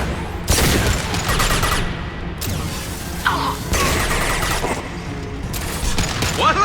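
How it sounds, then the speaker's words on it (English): Heavy video-game gunfire in a science-fiction battle aboard a collector ship: loud bursts of rapid shots and booming impacts in several clusters, with crashing debris between volleys, alone without talk. "Firing a high-impact shot!"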